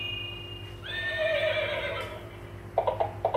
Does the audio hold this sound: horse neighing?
yes